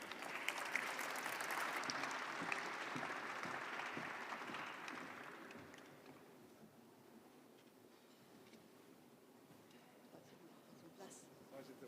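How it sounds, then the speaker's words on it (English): Audience applause for a conference moderator and her panel at an AI action summit, a dense broad wash of clapping for about six seconds that then fades into quieter room murmur and scattered noise. "Please join me in giving her and her panel a very warm round of applause."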